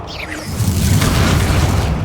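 A spell effect in Hogwarts Legacy, Expelliarmus: a whooshing rise that lands in a deep, booming burst, then a loud rumbling tail that holds steady, heard alone and close.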